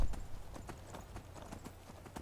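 Horse hooves clip-clop steadily in the Skyrim video game, a plain ordinary horse walking with an even rhythm of close, moderately loud hoofbeats alone over a low background rumble.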